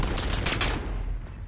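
Sustained rapid automatic gunfire in Call of Duty Warzone, a dense loud burst that runs steadily for over a second before easing slightly, with no talk over it.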